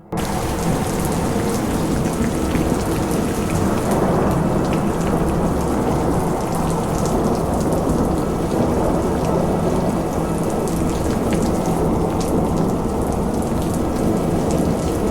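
A loud thunderstorm: heavy rain pours steadily on a surface while thunder rumbles, continuous and close throughout.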